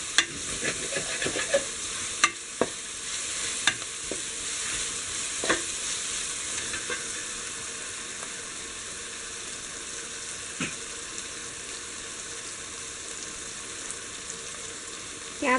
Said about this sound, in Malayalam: ഹൈ ഫ്ലെയിമിലിട്ട് ക്യാപ്സിക്കം ഒന്ന് ചെറുതായിട്ട് ഫ്രൈ ചെയ്തെടുക്കുക.